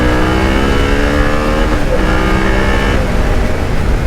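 Motorcycle engine revving hard under throttle on a track after downshifting, a loud, continuous close-up roar with rising and shifting pitch throughout and no talk.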